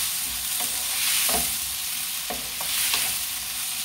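Tomatoes fry in a pan for adobong sitaw with a steady, moderately loud sizzle. A spatula stirs and scrapes through it every second or so, close by and without talk.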